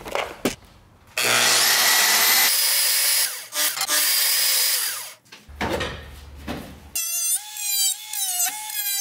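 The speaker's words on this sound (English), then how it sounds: "It's a little smaller at the top, so we gotta trim these corners." Power tool trimming the corners of a mounting opening on an FC RX7 project car, loud close grinding and whirring in several bursts with brief gaps, ending with a rising, warbling tone.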